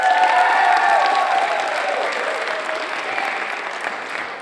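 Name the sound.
audience applause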